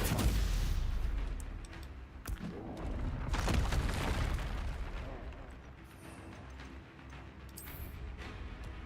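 Confringo, a blasting spell cast in Hogwarts Legacy, lands as a few heavy booming bursts with short rumbling tails amid game combat, fairly close and moderately loud.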